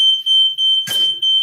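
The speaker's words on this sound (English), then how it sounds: "Alarm because of this flame." A smoke alarm in a kitchen, set off by an open cooking flame while oil is being bleached, shrills loudly and close in repeated high beeps with brief gaps, and a short burst of noise cuts in midway.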